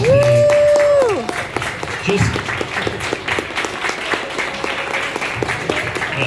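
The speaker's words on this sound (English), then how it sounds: "You guys should clap for our judges." After a brief sustained tone at the start, a film festival audience breaks into steady applause that carries on at a moderate level, with a few voices mixed in.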